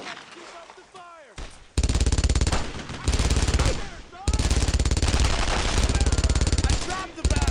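Dense machine-gun and rifle fire in a Brothers in Arms World War II battle against German paratroopers, loud rapid bursts sustained almost continuously after a brief quieter opening, with shouted voices mixed in.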